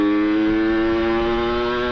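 Kawasaki Ninja RR two-stroke motorcycle with a PWK30 carburetor and power jet, engine holding a steady, buzzy high-pitched rev at close range for two seconds, with no voices.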